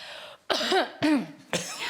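A man imitates his nervous cough with three sharp, loud coughs in a steady rhythm, each separated by a short pause, close to the listener with no other talking.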